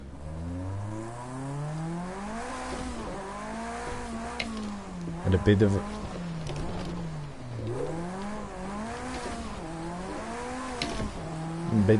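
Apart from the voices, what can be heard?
race car engine driving in the video game Project CARS 2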